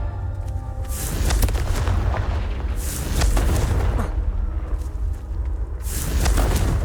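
Confringo fire-blast spell cast in the Hogwarts Legacy video game: three loud, booming bursts spaced a couple of seconds apart over a steady low rumble, with no talk.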